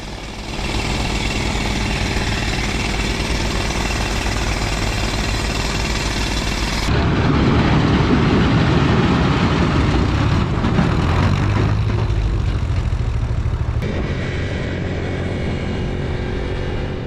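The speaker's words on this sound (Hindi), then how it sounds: "एक एरिया में ब्लास्टिंग के लिए ड्रिलिंग की जा रही थी।" Rock drilling for blasting along a roadside stretch, a continuous loud mechanical roar with steady grinding texture that shifts in tone partway through, close and unbroken with no talk.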